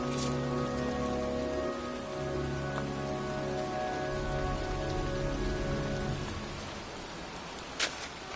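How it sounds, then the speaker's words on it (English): Steady rain falls outdoors and patters on surfaces in an even hiss, joined by a low humming drone for most of the stretch and a single sharp knock near the end. "It's cold. It's raining. I'm standing outside getting soaked."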